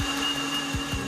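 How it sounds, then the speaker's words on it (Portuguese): A blender mixes cereal with water, giving a steady, loud motor whir that holds constant with faint periodic thumps underneath. "Agora misturamos o cereal com água para bater no liquidificador."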